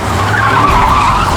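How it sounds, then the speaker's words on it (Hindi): A car skidding as a drunk driver loses control, tires squealing continuously and loudly with engine roar throughout. "शराब पी के गाड़ी चलाने लग रहे।"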